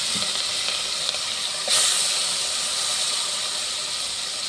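Spicy ground green chili paste with mustard seeds and curry leaves fries in hot oil, giving a steady, loud, close sizzling hiss that surges slightly midway and continues without talk.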